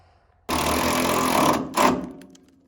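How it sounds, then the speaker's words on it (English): A power drill drilling a hole for an exhaust hanger on a Bronco whirs loudly for about a second, stops briefly, then gives a short second burst before winding down. "then we'll drill that hole"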